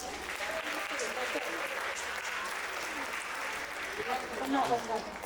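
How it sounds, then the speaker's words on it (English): A crowd at a school annual day applauds a kindergarten performance, a soft, somewhat distant wash of clapping that holds steady, swelling briefly near the end. "let's give them a big round of applause"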